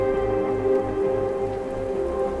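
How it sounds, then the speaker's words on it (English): Steady rain falling on surfaces in the video game South of the Circle, a dense continuous patter with a low tonal hum beneath it, no voices. "The rain."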